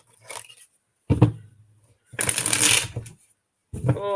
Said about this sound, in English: Oh man, that was not a good shuffle.